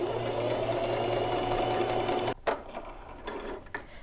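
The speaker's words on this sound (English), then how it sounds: "This is on 7 and I'm sewing on muslin fabric." A sewing machine set on stitch length 7 stitches muslin fabric with green top thread and orange bobbin thread. A rapid, even mechanical whir runs for about two seconds, then stops, followed by quieter clicks and handling noises.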